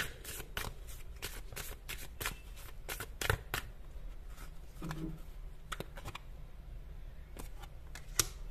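Tarot cards are shuffled close by in a quiet room, giving a rapid series of crisp riffling snaps and flicks that continue throughout the clip.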